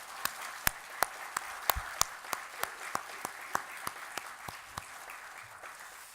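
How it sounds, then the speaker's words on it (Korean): A church congregation claps in unison, a steady rhythm of sharp synchronized claps about three per second over a soft background of scattered applause, fading slightly toward the end. "우리 하나님께 영광의 박수를 올려드리겠습니다."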